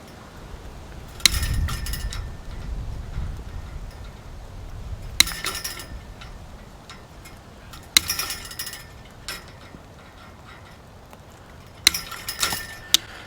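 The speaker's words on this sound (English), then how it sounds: "I'm going to make a series of overlapping bites on the crimp." Crimping pliers biting down on a wire crimp in a series of overlapping bites, each a short ratcheting click burst, about five spread across the stretch, close and fairly crisp over a quiet background.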